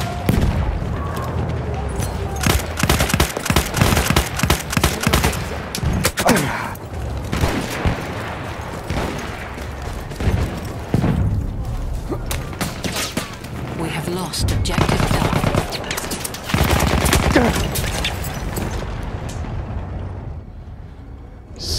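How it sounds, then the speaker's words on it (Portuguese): Enemy machine gun fire during a Battlefield 1 Conquest multiplayer battle at Fao Fortress, long repeated loud bursts mixed with booming explosions and battlefield clatter, fading near the end, with some voices underneath. "Düşman makinalı tüfeği."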